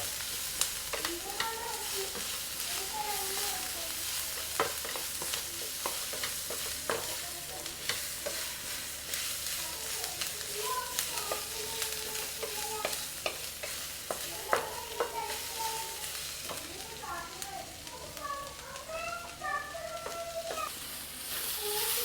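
Onions sautéing in oil in a pan for a Ramadan meal, a steady soft sizzle with frequent scrapes and taps of a stirring spoon throughout, no voices.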